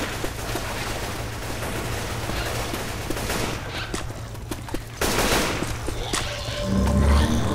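Sustained automatic gunfire in the zombie shooter Left 4 Dead 2, a dense, loud stream of close shots running throughout, with a few heavier bursts midway and low rumbling near the end.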